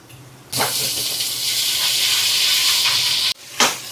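Tomatoes hitting a hot pan with salt and tamarind, setting off a loud, steady hiss of sizzling that cuts off abruptly, then a brief scrape of stirring, close up with no talk.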